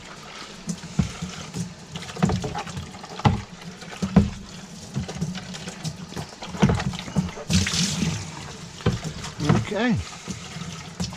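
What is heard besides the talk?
water filling and rinsing a fig tree cavity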